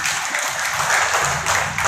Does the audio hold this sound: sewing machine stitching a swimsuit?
no